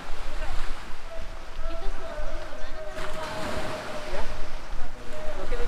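Steady broadband roar of a boat moving over the sea off Hatta Island, with wind and water rushing and a faint engine hum throughout.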